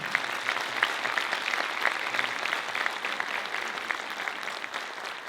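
Sustained audience applause at a seminar in Çanakkale, many hands clapping steadily at moderate volume in a hall, with no voices over it.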